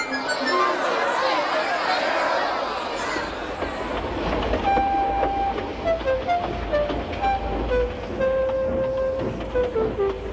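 A steam train rumbles and clatters as it pulls away from a platform, followed by a run of short tonal whistle toots over the moving wheels.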